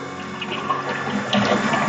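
Liquid rushes steadily through a venturimeter apparatus in a fluid mechanics lab, a continuous broadband watery hiss and gurgle that swells slightly toward the end, with no voices.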